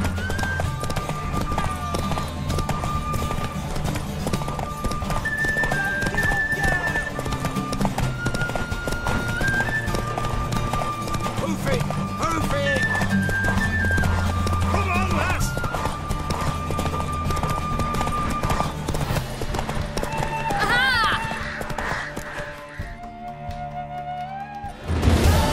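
A horse gallops in a race in the video game Witcher 3, its steady clip-clop hoofbeats running on with occasional whinnies, game music and brief voices.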